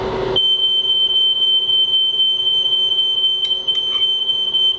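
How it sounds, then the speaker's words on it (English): Kitchen heat alarm going off while a calzone bakes: a continuous piercing high-pitched electronic tone, loud and steady, with faint clatter in the background and no talking. "My heat alarm will go off in a minute."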